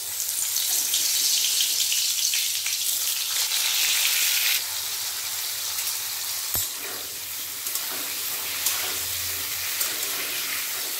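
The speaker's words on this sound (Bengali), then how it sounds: "তেল গরম হয়ে গেছে, লবণ হলুদ মাখানো পটলগুলো আস্তে আস্তে দিয়ে দিন।" Pointed gourd pieces coated in salt and turmeric sizzle loudly in hot white cooking oil, a dense steady crackle that eases slightly midway, with a brief clatter and no talk.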